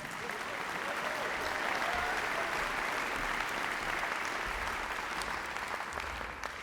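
A concert audience at a school community cinematic-music concert applauds steadily for several seconds, a dense, even roar of clapping from a large hall crowd.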